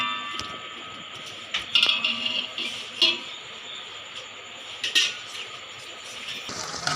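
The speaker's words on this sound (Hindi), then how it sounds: "हम इसे अब हल्का हल्का फ्राई होने लग गया है" Sliced onions frying in oil in a pan, a steady close sizzle with sharp metallic clinks of a spoon stirring against the pan at irregular intervals, no voice heard.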